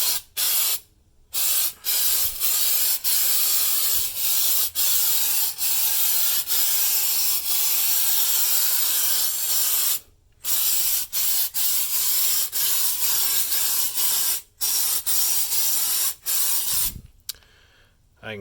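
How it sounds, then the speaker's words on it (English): A Rust-Oleum spray paint can hisses in long, steady bursts onto a muscle car's trunk, close up, with brief pauses and a rattle of shaking between passes. "we're going to shake and spray and see how this stuff does"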